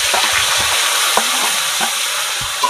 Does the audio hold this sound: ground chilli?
yes